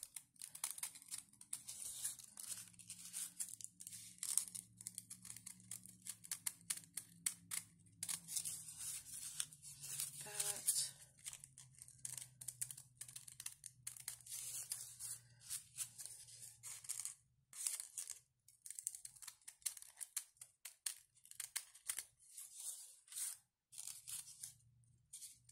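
Scissors snip repeatedly at a machine-sewn tulle rosette, the small crisp cuts arriving in quick irregular bursts that stay close and fairly quiet throughout, with no talking over them.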